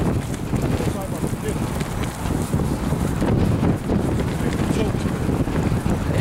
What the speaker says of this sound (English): Man, what that wind just came out of nowhere